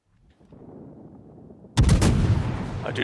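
Warship gunfire in a naval video game aboard the cruiser Worcester: a faint low rumble, then a sudden loud volley of booming shots with reverberant follow-up blasts, close and heavy.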